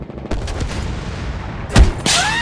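Sharp booming shots from a World War I fortress artillery gun in a video game ring out amid a rumbling gunfire background, with a louder blast near the end followed by a ringing sweep.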